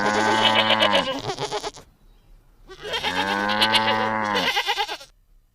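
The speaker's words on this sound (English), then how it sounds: "G for goat." A goat bleats in two long, wavering cries separated by a short pause, close and loud with no one talking over it, set within a children's alphabet song.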